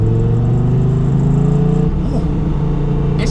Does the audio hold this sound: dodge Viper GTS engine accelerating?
yes